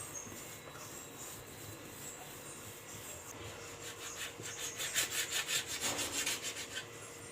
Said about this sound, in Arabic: نقطع كور صغيره بالسكينه